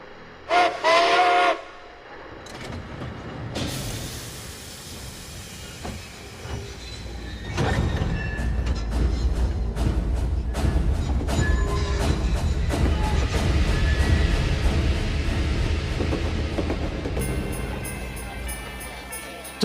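A steam whistle blows, then a train rumbles and clatters steadily along the tracks, loud and close, with rhythmic clanking building and fading toward the end.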